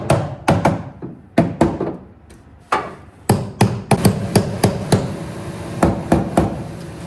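Repeated hard metallic banging and thudding on a stuck vehicle window relay and motor, irregular bursts of strikes with short pauses between them, close and loud, no talking.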